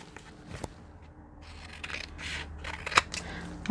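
Scissors snip through fabric while trimming the edges and corners of a sewn pocket, giving a few close, crisp cuts spread across a quiet stretch with light handling noise between them.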